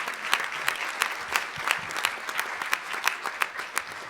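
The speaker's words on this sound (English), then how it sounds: "Please give our elected City Council members a round of applause." A luncheon audience applauds the elected city council members at a public safety event, with steady, dense clapping from many hands and sharper individual claps standing out. The applause fills the room throughout.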